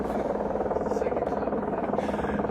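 A helicopter circles overhead above a home, a second chopper joining the first, producing a steady, continuous rotor drone that fills the whole stretch without pause.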